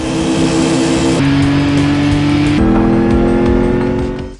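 Car engines from the video game Gran Turismo 5 roar loud and close, a continuous high-revving drone that shifts pitch abruptly twice as gears change, running unbroken throughout.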